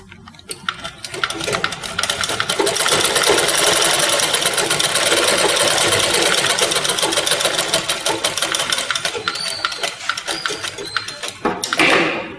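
A sewing machine runs steadily for about eleven seconds, stitching a half-inch hip line seam on a garment, with a fast even whir that stops briefly near the end.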